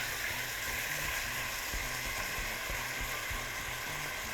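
Ground meat frying in a pan for bulgur pilaf, a steady close sizzle and crackle running without a break, with faint scraping underneath and no voices.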